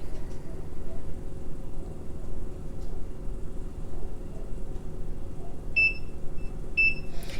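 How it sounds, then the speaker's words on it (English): Two pairs of short, high electronic beeps from an HPN MPress mug press sound near the end over a steady low hum, with a quiet pause between them. "it starts to beep ahead of time to let you know that it's getting close"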